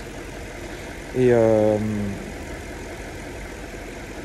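A Jaguar XK8 4.0 V8 294 hp warming up at idle, a steady, even engine hum throughout, with someone briefly speaking over it.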